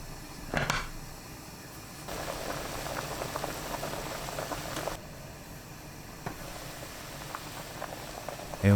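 Korean zucchini and pork belly stew with gochujang, garlic, onion and potato simmers under a closed lid, a quiet steady bubbling with occasional louder pops and lid rattles.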